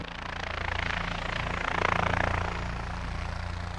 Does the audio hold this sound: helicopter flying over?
yes